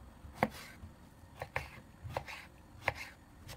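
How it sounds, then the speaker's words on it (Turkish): Knife chops eggplant into small cubes on a cutting board, five or six separate sharp strikes spaced irregularly, close by and fairly quiet. "Patlıcanları da küçük küp küp doğrayacağım."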